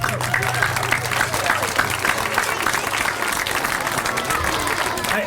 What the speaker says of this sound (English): How about a round of applause for her?